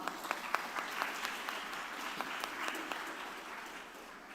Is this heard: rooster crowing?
no